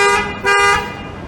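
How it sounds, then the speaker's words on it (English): Car horn honking on a busy downtown Toronto street at night, two loud close blasts in quick succession, the second held slightly longer, with traffic noise fading behind. "I think this guy was getting honked at."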